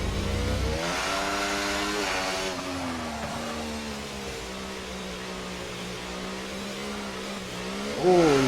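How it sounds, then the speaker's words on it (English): A race car engine in a racing game, held at full throttle on a circuit in Hungary, rising and holding a steady high revving drone, with a further surge near the end. "He comes across, back on the power, full throttle"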